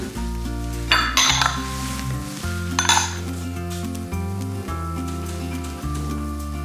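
Dishes and pans are cleaned up in a home kitchen while a babka bakes, with close clinks and clatters of cutlery and cookware over a steady running hum, a few sharper knocks standing out and no talking.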